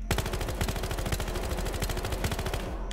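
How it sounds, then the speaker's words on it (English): Rapid automatic gunfire at the gun range in the video game Battlefield Hardline, a dense, steady stream of loud, evenly spaced shots lasting the whole stretch without pause. "you could basically just start shooting it up"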